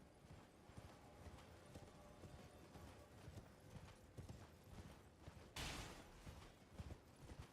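A horse gallops in the video game Elden Ring, steady rapid hoofbeats running throughout, with a sudden loud burst of noise partway through.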